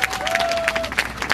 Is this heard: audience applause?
yes